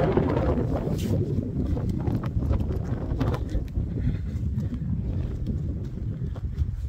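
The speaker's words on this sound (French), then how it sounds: "Il y a du vent là, ça va chasser les nuages." Wind gusts across an open garden in Verdelot, making a continuous loud, buffeting rumble on the microphone with no pause and no talking.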